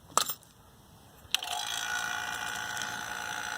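A vacuum pump starts up on a 1-ton Aurus minisplit line set after a couple of clicks and settles into a steady, fairly quiet mechanical hum that continues alone to the end.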